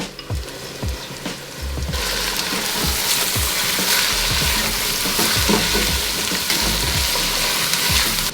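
Carrots sautéing in a pot with celery for chicken soup, a steady loud sizzle with crackling pops and occasional scraping stirs, starting quieter then filling out fully after a couple of seconds.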